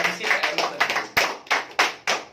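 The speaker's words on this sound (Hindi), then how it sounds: "मैं चाहूंगा सर के लिए ग्रेट तालियां होनी चाहिए।" A small audience claps at a company business presentation, loose separate hand claps in an uneven rhythm, fairly close and clear, with no talk over them.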